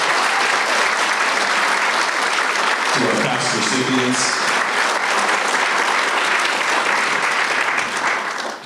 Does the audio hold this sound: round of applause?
yes